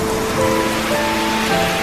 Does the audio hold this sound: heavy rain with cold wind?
yes